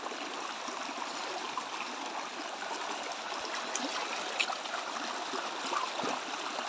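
Broad steady rush of a large river running beside farmland, a continuous mid-distance flow with soft gurgles and no talk over it.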